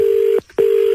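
Two steady telephone call tones, each a loud held beep broken by a short silent gap, heard on a phone line during a prank call.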